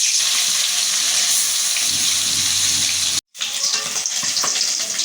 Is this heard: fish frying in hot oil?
yes